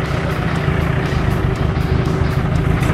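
An old Nomad Adventure Jeep rattling over a bumpy dirt road beside the Kruger National Park fence near Marloth Park, its loud, close engine drone continuous with jolting thumps.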